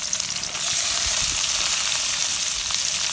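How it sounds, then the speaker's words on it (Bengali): Crushed garlic cloves sizzle and crackle steadily in hot oil in a village kitchen, for cooking taro stolons; a loud, continuous frying hiss that rises after a short start and holds, with no talk. "এই রসুনগুলো এই যে তেলে দিয়ে দিলাম।"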